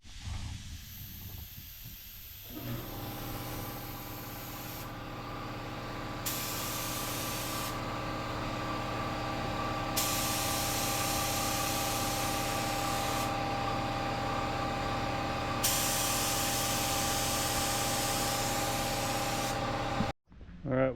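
A paint spray gun lays down a coat of automotive paint mixed four to one with activator and no reducer, giving a steady loud hiss that runs almost unbroken for about eighteen seconds with brief trigger pauses.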